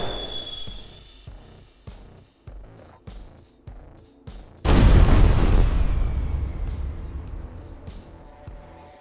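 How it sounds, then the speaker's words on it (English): Fireworks go off in a rocket-building video game: a quick run of sharp clicks and pops, then a single loud boom that rolls into a long, slowly fading rumble. "I want to try a firework."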